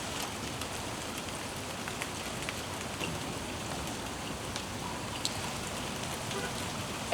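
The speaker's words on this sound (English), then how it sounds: "then of course it started raining" Steady rain patters down on a surface, a dense continuous hiss with scattered drops, even in loudness throughout.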